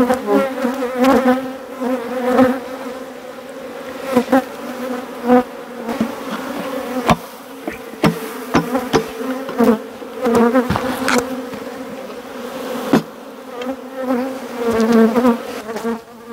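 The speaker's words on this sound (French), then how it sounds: "les abeilles d'hiver qui ont passé l'hiver ont tendance à être un peu agressives" Honeybees from an opened hive buzzing loudly and close, a dense continuous drone with individual bees whining past, punctuated by occasional sharp clicks and handling knocks.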